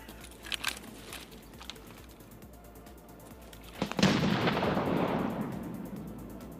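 Grenade explosions in the Escape from Tarkov game: a few sharp bangs early on, then one loud blast near the middle that rolls into a long, decaying rumble.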